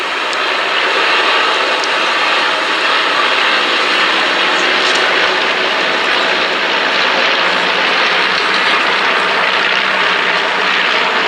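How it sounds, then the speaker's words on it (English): De Havilland Gipsy Major 130 horsepower aircraft engines droning loudly and steadily as the plane flies at an air show at Duxford, a continuous close engine roar with no pauses. "you can listen to those gorgeous 130 horsepower de Havilland Gypsy Major engines"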